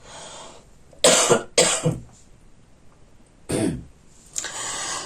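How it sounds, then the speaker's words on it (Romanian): Four sharp coughs from a lingering post-flu cough, in two pairs, close and loud, separated by quiet pauses with no talking. "Am rămas cu o tuse supărătoare după gripa asta."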